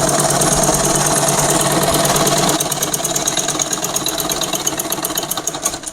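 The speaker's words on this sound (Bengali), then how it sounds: "একসাথে সেলাই করে নিচ্ছি।" A sewing machine stitches two fabric pieces together with a fast, steady mechanical whir and rapid rattling needle rhythm, close and continuous, slightly changing pace midway.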